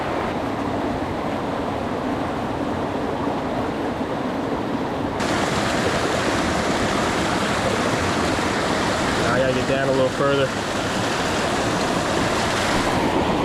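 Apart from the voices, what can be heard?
rushing water of Rapidan River waterfall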